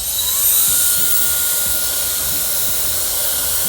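An iQ Perfetto blow dryer runs steadily up close, giving a constant airy hiss with a high, thin whine that holds level throughout.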